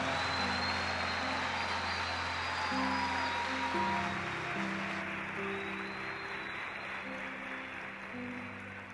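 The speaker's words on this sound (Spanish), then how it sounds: "Fuerte el aplauso en esta gran conferencia." Audience applause at a large church-style conference, sustained clapping throughout with music tones underneath, steady and fairly loud before gradually easing.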